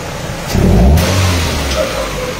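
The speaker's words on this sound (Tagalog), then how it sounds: "Basta pag in-accelerate natin, mabilis na bumaba yung kanyang RPM compared po dati." Mitsubishi Cedia engine revving as it accelerates, a loud close rise in pitch and volume that peaks briefly, then drops back quickly to a steady lower hum.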